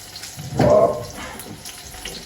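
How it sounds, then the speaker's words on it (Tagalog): Water poured from a container into a cooking pot, a short splashing pour lasting about half a second, close and fairly loud against quiet room background. "Sige, lagyan natin ng kaunting tubig."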